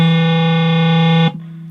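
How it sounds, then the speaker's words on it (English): Hollow body electric guitar through an amp set to a 60s British channel with heavy drive and high-gain distortion, giving a loud steady buzzing hum with no notes played that drops abruptly to a quieter hiss. "a lot of gain on it, a lot of distortion, and I'm not even playing a note."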